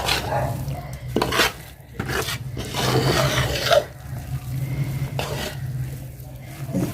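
Flaxseed laddu (alsi pinni) mixture being stirred and mixed in a pan, giving a steady close-up rasping, scraping sound with a low hum underneath, no talking.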